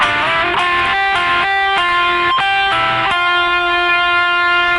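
Electric guitar plays the second phase of a lick, a sustained distorted line of several picked notes that ring together, loud and alone.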